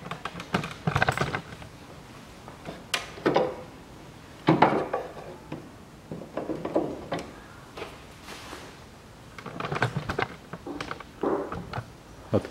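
Four 10 mm bolts being unscrewed under the hood of a 2012 Hyundai Solaris whose engine misfires: close, intermittent metallic clicks and rattling bursts of tool work with brief pauses, no talking.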